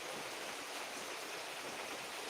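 Heavy monsoon-style rain in Kerala hisses steadily and close by, an unbroken wash of drops at a moderate, even level without any speech.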